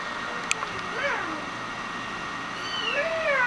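A kitten mews a few times, high and thin, with a rising-falling meow near the start and a longer one near the end, close by over faint room noise.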